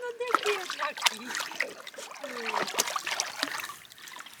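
A dog named Lucky biting and splashing at water on a mountain outing, choppy splashes and trickles close by, with people talking over them.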